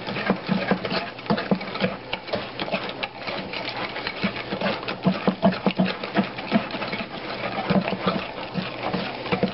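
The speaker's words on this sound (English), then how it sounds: "just whisk it around. Get all those dry bits down at the bottom." Peach cobbler batter is whisked around a bowl to work in the dry bits at the bottom, making a continuous close, rapid patter and scraping rattle that runs without pause and has no talking over it.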